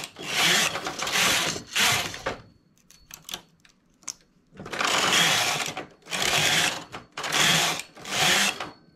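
Knitting machine working a lace pattern and a rounded neckline: loud, rattling carriage sweeps of one to two seconds each. A run of sharp mechanical clicks falls between them, close, with no talk.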